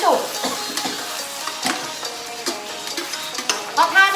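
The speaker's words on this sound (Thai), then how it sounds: "เราผัดสตอให้สุกก็พอ" Stink beans (sator) stir-fried with shrimp paste and minced pork in a pan give a close sizzle broken by repeated scraping stirs in an uneven rhythm, with no talk.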